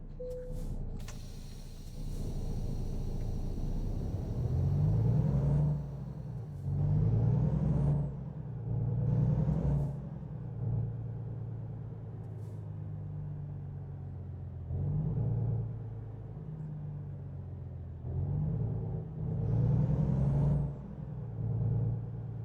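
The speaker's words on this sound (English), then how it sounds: "Let's turn the truck around because it's the delivery zone." Truck engine in the driving game American Truck Simulator, a steady low rumble with repeated swells as the engine revs and shifts, interrupted by brief hissing bursts like air brakes.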